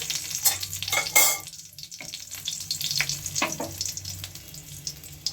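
Dry red chillies frying in hot oil in a wok, giving a steady close sizzle with crackling bursts and a few louder stirring scrapes throughout.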